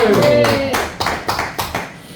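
Rhythmic clapping from a church congregation during a sermon, four or five sharp claps in a steady beat, with a sung or spoken tone fading underneath at the start.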